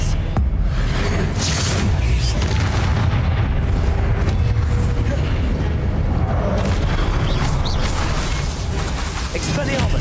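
Heavy, continuous booming explosions from the Confringo fire spell in Hogwarts Legacy roll on without a break, dense and loud, with spell effects crackling over the deep rumble.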